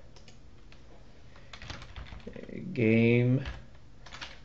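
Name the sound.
typing code on a computer keyboard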